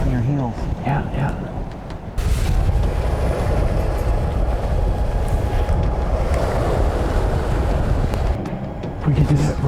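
Wind and ocean noise around a small boat out on the water, a steady broad rushing roar with water wash that swells louder after the first couple of seconds, while people talk over it.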